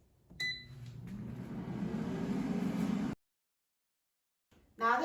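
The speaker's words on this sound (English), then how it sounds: "Now the air fryer is done cooking" An air fryer winds down at the end of its cooking cycle, with a steady whirring hum that stops abruptly, leaving a few seconds of silence before a short sound starts at the end.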